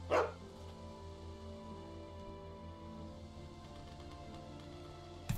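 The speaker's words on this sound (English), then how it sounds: "Feed the nice little doggy." A dog in The Walking Dead: Season 2 video game gives a short bark at the start and another brief yip at the end, with a steady low game soundtrack drone filling the gap between them.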